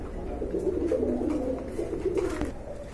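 A pair of pigeons coos steadily close by, a low rolling call repeating over a constant background hum, with no one talking.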